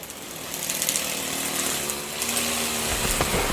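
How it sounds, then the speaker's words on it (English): A neighbour's petrol lawn mower drones continuously at moderate distance, a steady engine buzz running throughout without pauses or talk. "The neighbor was busy mowing his lawn"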